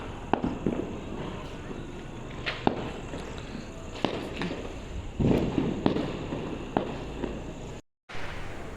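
Diwali firecrackers go off outdoors as a series of sharp, separate bangs spaced a second or two apart, each cracking over a steady background hiss, with a brief dropout near the end.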